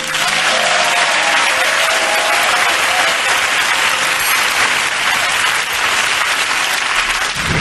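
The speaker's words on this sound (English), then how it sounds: "That's a long clap for a spoon, Isn't it?" A studio audience on a radio show claps loudly and at length, a dense, sustained roar of close applause that stays at full strength for over seven seconds with no break.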